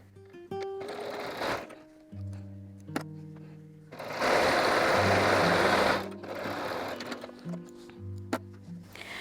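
A sewing machine stitches jelly roll quilt fabric strips with a scant quarter-inch seam. It runs in several whirring, rattling bursts separated by short pauses, with the loudest steady run in the middle. The sound is close and there is no talking.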